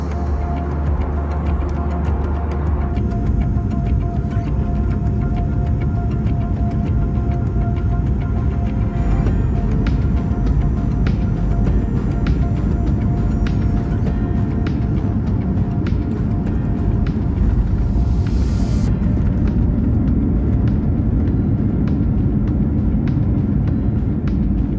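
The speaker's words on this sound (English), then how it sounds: "Landing into Glasgow Airport and pulling up next to the TUI 737 that we started today on" Inside an airliner landing at Glasgow Airport, a loud continuous cabin roar and rumble of engines and airflow, shifting slightly partway through as the aircraft slows.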